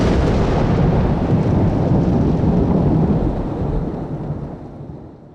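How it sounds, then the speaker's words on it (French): A long, loud roll of thunder rumbles deep and steady, then slowly fades away toward the end, with no voices. "Du haut des cieux, il lancera sur eux son tonnerre."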